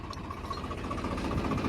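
A Swaraj 855 diesel tractor engine runs with a continuous, even drone and low rumble, heard up close for a short stretch.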